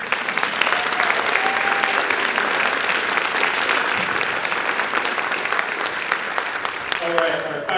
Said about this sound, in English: One more applause for Heather, please.